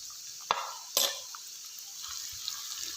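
Whole spices with chillies, garam masala, black pepper, white cumin, a few cloves and a cinnamon stick fry in a pan for mutton dal gosht, a steady soft sizzle broken by two sharp stirring scrapes near the start.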